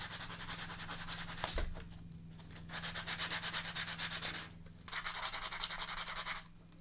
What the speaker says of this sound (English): I also have this sander here